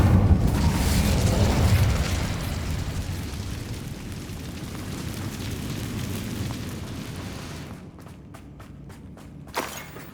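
A fire spell cast in the video game Hogwarts Legacy: a loud, rumbling burst of flame that slowly fades over several seconds, followed by a few sharp clicks and a brief pop near the end.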